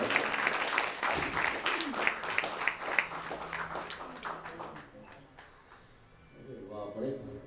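A theatre audience applauds with dense clapping that slowly thins and fades, while someone speaks over it at the end.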